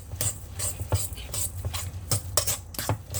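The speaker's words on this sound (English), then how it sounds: "So there goes my egg in. And I'm going to stir that around." Spoon stirring a raw egg into a mashed bean mixture, a steady series of soft scraping, clinking strokes against the bowl, close and fairly quiet.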